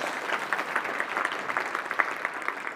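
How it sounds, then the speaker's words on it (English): Audience applause for a conference's technical team, a steady patter of many hands clapping at moderate distance with no voices over it. "a nice clap for Cherokee here."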